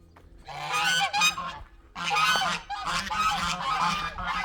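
Young guinea fowl keets in a garden pen call noisily in loud, harsh bursts, several birds overlapping in choppy clusters with short gaps between.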